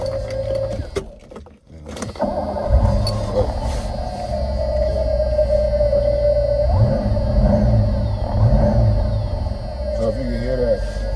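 A Mercedes W126 500 SEC coupe cranks and its engine catches, then settles into a steady, loud idle with a constant hum. Brief clunks come right at the start, and a person talks over the running engine.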